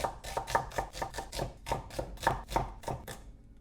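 Red onion diced into small pieces with a knife on a cutting board, a run of quick, steady chops at close range, no voices.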